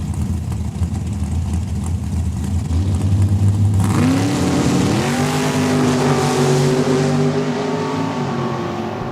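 A dragster at a drag strip roaring past, its loud engine note rising in pitch as it accelerates, then sweeping away with a falling tone and a steady wash of engine noise, heard from trackside with no talk.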